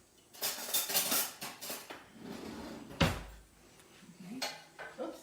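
A slotted spoon rattling and clinking among dishes and leftover vegetables in a kitchen sink, a busy run of close metallic clatter that eases off, then one sharper knock and a few lighter taps.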